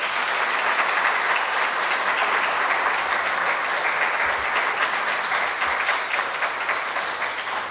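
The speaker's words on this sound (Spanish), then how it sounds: "Un aplauso, por favor." Sustained loud applause from a seated audience at an engineers' association tribute ceremony honouring an engineer's 75 years of professional life, dense steady clapping filling the room for the whole stretch without letting up.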